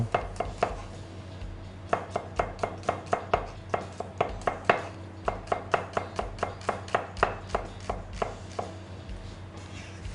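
Shallots are sliced thinly with a knife on a cutting board, a fast steady series of crisp chopping taps in several runs, close and distinct, with no talk.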